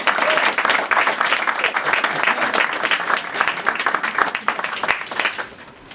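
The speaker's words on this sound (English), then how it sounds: "Give him a big round of applause." Loud, lively audience applause for a reader at the AWP 2013 literary event, dense clapping throughout that tapers off in the final second.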